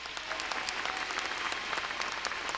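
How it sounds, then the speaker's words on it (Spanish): A church congregation applauds loudly and steadily, dense clapping filling the whole stretch without pause. "Ese aplauso más fuerte para Jesucristo."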